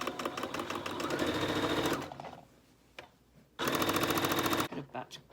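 A sewing machine runs in two fast, rhythmic bursts of stitching, with a pause between them, as it back-stitches at the start of a seam on a fabric dust cover. It is close and moderately loud, and a voice speaks briefly.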